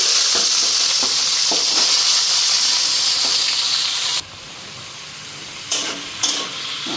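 Ash gourd frying in a pan gives a loud, dense sizzle for about four seconds, then a quieter hiss marked by a couple of short clatters.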